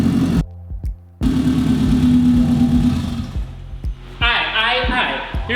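A Subaru EJ20 engine swapped into an all-wheel-drive Mazda Miata idles with a steady low rumble close by, briefly cutting out, while someone talks over it.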